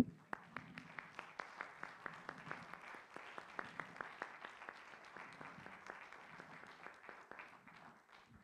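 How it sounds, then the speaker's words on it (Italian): Audience applause at an athletics federation conference in Lavis, Italy, heard as a steady stream of distinct claps at moderate distance, fairly quiet and continuing for the full length with faint voices underneath. "O possiamo partire con gli applausi per Piero?"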